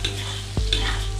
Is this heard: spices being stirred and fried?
yes